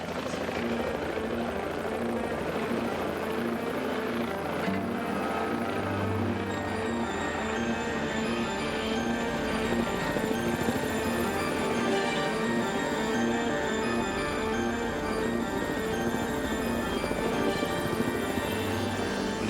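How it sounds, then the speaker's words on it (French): A helicopter flies near an Arctic icebreaker, its rotor beating in a continuous, steady throb with engine whine layered on top, holding at a moderate distance for about twenty seconds. "le pilote Steve Hemphill et Malcolm partent en hélicoptère pour essayer de les capturer"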